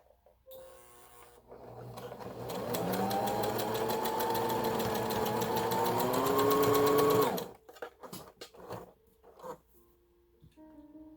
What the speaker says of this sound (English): we're going to sew this elastic right in the middle of the fabric from the top